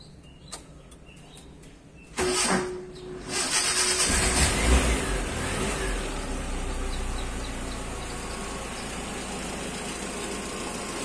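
A Mitsubishi L300 being started: a few clicks, then the starter cranks and the engine catches with a short rev before settling into a smooth, steady idle close by.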